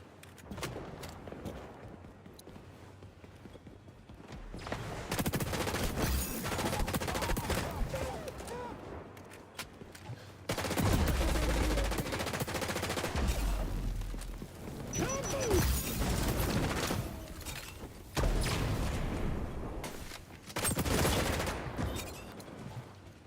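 Rapid bursts of automatic gunfire and explosive shots in the video game XDefiant, loud and close, coming in repeated volleys across the whole stretch, with heavy thumps between them and occasional footsteps.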